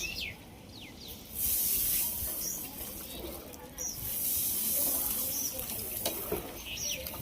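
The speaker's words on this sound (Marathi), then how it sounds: "तांदूळ टाकायचं काम चालू आहे सध्या." Uncooked rice pours into a large pot for a homemade 6 kg chicken biryani, giving a steady hissing, sandy rush that swells partway through, with faint voices in the background.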